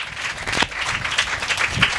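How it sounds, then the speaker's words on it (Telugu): A church congregation applauds in a dense, continuous burst of clapping for about two seconds, loud and fairly near. "Give claps to the lord Jesus Christ."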